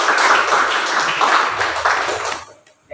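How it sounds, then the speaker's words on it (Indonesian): A group claps together in applause for their school, a dense burst of hand claps that carries on for a few seconds before tapering off. "Tepuk tangan buat sekolah kita."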